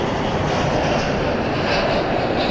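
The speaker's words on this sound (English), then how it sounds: "we got Iberia coming in. It's an Airbus A330" An Iberia Airbus A330 airliner arriving at DFW Airport at night gives off a loud, continuous broadband jet roar that holds steady without a break.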